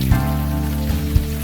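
Steady rain patters throughout a scene in the video game Unavowed, a dense even hiss with a few soft low thumps over it and no talk.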